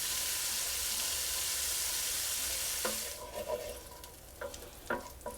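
Bone marrow sizzling in a pan, a loud steady hiss of frying that drops away into quieter crackles, with a few sharp clinks of a utensil stirring near the end.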